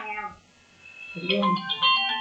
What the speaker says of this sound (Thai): มีเสียงโทรศัพท์เข้ามา